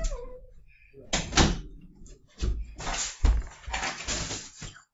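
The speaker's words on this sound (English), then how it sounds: "let me shut the door again because I forgot." A door is shut indoors, a solid thump among broken bursts of movement and household noise, with a person talking around it.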